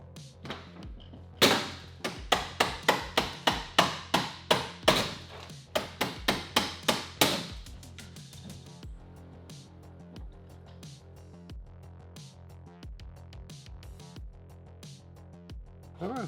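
A small screwdriver pries and taps at a C5 Corvette headlight gear housing, making a rapid series of sharp, close clicks and knocks for several seconds. The housing then cracks open, followed by quieter handling rattles.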